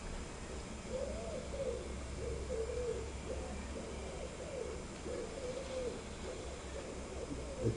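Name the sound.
pigeon cooing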